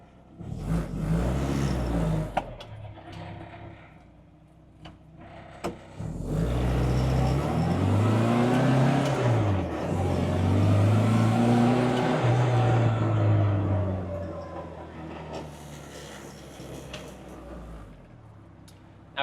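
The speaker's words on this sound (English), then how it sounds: "let y'all experience the sound and the experience of driving this 1100" A classic 1100 car with a 3-synchro gearbox drives along, its engine droning and revving up through the gears with rising and falling pitch, easing off between pulls, heard from inside the car with a brief voice at the start.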